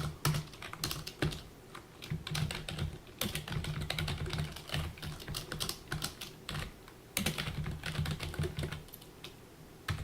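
Steady rapid typing on a computer keyboard, dense clicking keystrokes running continuously at close range with no voices.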